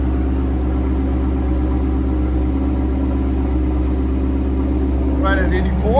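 Idling 2019 Ford Mustang GT 5.0L V8 with Corsa Xtreme exhaust and Vibrant resonators, a deep, steady, loud rumble with a low throbbing pulse, a voice briefly speaking over it near the end.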